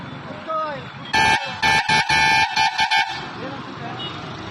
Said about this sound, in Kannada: ವಾಹನಗಳ ಕರ್ಕಶ ಹಾರ್ನ್ನಿಂದ ಸಾರ್ವಜನಿಕರಿಗೆ ಕಿರಿಕಿರಿ